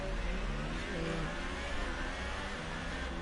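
A Formula 1 race car in the F1 2018 video game at the Belgian circuit idles ahead of the formation lap, with a steady, muffled engine drone that holds fairly level throughout and carries no talking.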